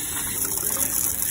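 Water steadily gushing and pouring into a bottle outdoors at a riverside tourist spot on the Chenab at Akhnoor, a continuous close liquid rush with no talk.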